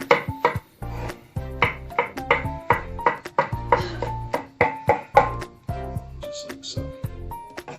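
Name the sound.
rough chopping mushrooms with a knife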